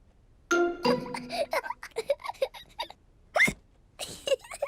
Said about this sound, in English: George drank his juice too quickly, and now he has hiccups.